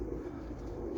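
Roller pigeons coo softly and steadily in a low murmur, several birds overlapping close by with no other sounds around them.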